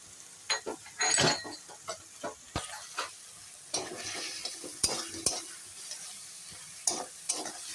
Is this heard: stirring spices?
yes